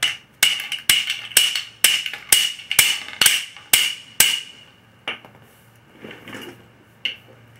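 PVC rocket fuel packed down in a tube with a bolt: about nine sharp, evenly spaced tamping knocks, close and crisp, followed by a few softer scrapes and one last tap.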